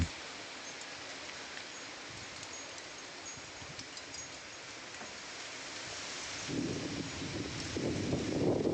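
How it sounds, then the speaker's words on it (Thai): Winter wind blows outdoors around potted plants and tall-stemmed garden plants, a steady broadband rush that swells louder and gustier toward the end, with no talking. "ตอนนี้บอกเลยว่าประสบปัญหาเกี่ยวกับเรื่องลม"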